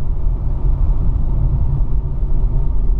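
A car with a faulty fuel pump drives along a road on a test drive, a steady low engine rumble and road drone heard from inside, with no talk.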